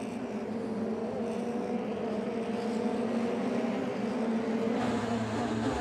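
DTM race car cutting the chicane during a 2020 sprint race at the Nürburgring, heard as a steady, dense engine roar that holds nearly constant throughout, with no speech.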